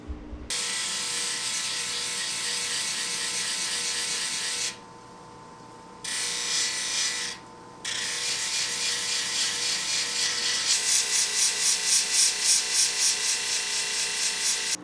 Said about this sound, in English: I got through all those pieces on the 1200 grit